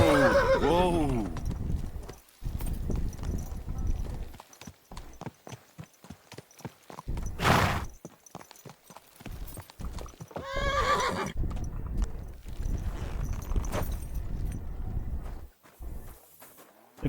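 A horse in the video game Kingdom Come: Deliverance 2 whinnies at the start, then its hooves clop in irregular bursts, with a second neigh midway and a voice speaking between the sounds.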